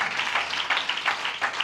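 A church congregation claps hands together during prayer, a dense, rhythmic patter of many hands repeating in quick regular pulses.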